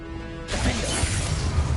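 A Confringo blasting spell in Hogwarts Legacy, heard as a sudden loud crash after a brief tonal lead-in, followed by a dense, crackling burst that sustains near and full.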